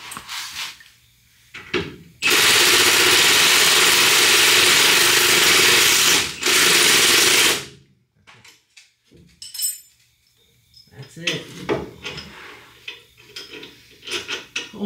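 Loud continuous mechanical whirring for about five seconds, likely an impact or power tool driving bolts during a 2.5-inch leveling kit install on a 2011 GMC Sierra 1500, followed by scattered clanks and tool handling in a garage.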